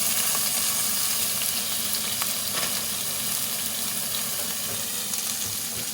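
Beef sizzles steadily in a hot pan for a stir fry, a constant crackling hiss with occasional scraping stirs, and no talking.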